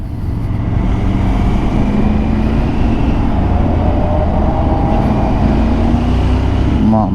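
Loud, steady road noise rides along from a motorcycle creeping through a traffic jam in Dallas, Texas, with a continuous engine drone and rushing wind that hold evenly throughout.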